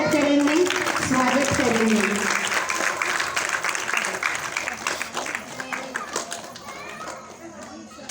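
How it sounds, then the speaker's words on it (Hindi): An audience claps loudly to welcome the actors of a play, a dense, sustained wave of applause. A voice and children's chatter are mixed in, and the clapping eases slightly toward the end. "उनका हम सभी जोरदार तालियों से स्वागत करेंगे"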